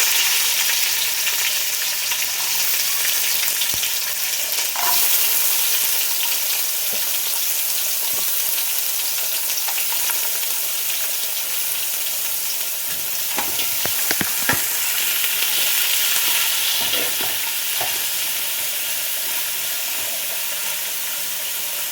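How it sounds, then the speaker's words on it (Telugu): Thinly sliced onions fry steadily in a pan, a constant loud sizzle and hiss with occasional stirring scrapes, no voices. "ఇది బాగా వేగాలండి, గోల్డెన్ కలర్కి రావాలి"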